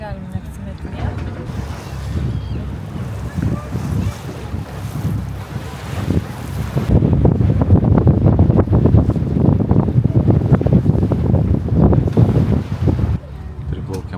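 Strong wind roars across the microphone aboard a boat on the Curonian Lagoon near Nida, a loud buffeting rumble that intensifies midway, with water and engine noise beneath and faint voices.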